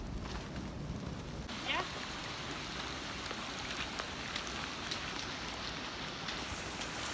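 Rain patters steadily on a hiking trail on a windy, cold day, a dense wash of drops with a few brief higher crackles and no talking.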